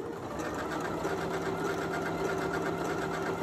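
A Janome Memory Craft MC9450 sewing machine stitches appliqué, with a fast, even mechanical whirring and rapid needle clatter running steadily and close.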